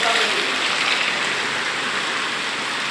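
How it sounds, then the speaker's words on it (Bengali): Heavy rain pours down steadily during a downpour, a dense, loud, unbroken hiss with no pauses. "দেখতে পাচ্ছেন প্রচুর পরিমাণ বৃষ্টি হইতেছে।"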